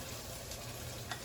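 Saltfish hits a pot of Jamaican saltfish and okra, giving a steady, low-level sizzle and frying hiss with light stirring throughout, and no voices.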